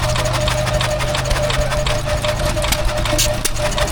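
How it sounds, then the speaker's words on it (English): A 1915 Montgomery Ward stationary engine built by Ford's foundry runs at a country show, a loud, steady, rhythmic chugging beat that continues throughout at close range. "Ford's foundry made the engine and then supplied it to Montgomery Ward"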